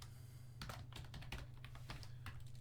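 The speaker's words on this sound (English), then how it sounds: "I'm typing in chat like a hero." Rapid typing on a computer keyboard, close and quiet, a run of irregular clicks and clatters lasting a couple of seconds with no talk.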